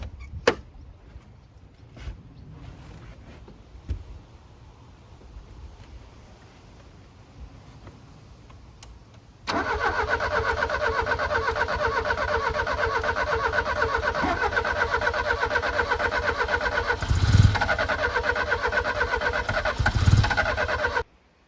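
Following a fuel pump replacement, a 20-year-abandoned Lancia Beta's engine is cranked. Quiet clicks and knocks come first, then a loud, continuous, droning starter crank runs for about twelve seconds without catching and cuts off at the end.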